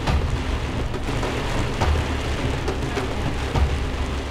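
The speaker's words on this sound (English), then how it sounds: "When storm clouds come, when the sky opens up and lets loose, the rain here can be like a wall of water." Heavy rainstorm in Africa pours down steadily and loud, a dense continuous wash of falling water with low rumbles rolling underneath, no voices.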